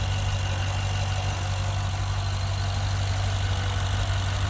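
A Maserati SUV's 3.8 liter V8 idles with a deep, steady rumble, close and continuous, with nothing else audible.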